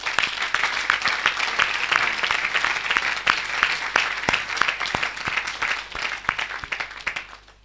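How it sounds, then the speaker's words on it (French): An audience at a church evangelism service claps and applauds for Jesus, a dense, steady wash of many hands with sharp individual claps popping through, holding strong for several seconds before easing off at the end. "Acclamez pour Jésus."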